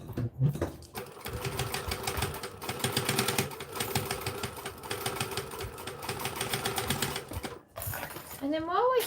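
A sewing machine stitches in a fast, steady mechanical rattle, running continuously with a few brief pauses, close and fairly loud, with a voice briefly heard near the end.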